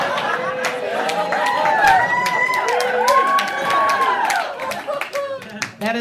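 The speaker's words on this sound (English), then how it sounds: "That is an applause break started by women and reluctantly joined in by men" Stand-up comedy audience breaks into applause, steady clapping mixed with cheers and whoops from a crowd at close range, fading toward the end.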